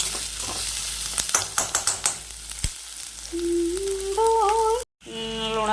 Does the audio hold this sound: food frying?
yes